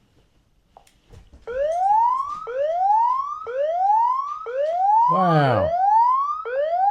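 Zooz ZSE50 alarm siren wailing loud and close in repeated rising sweeps, each about a second long. A brief exclamation breaks in near the end.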